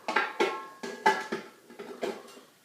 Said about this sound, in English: now that we have all of our ingredients together, we have to mix them together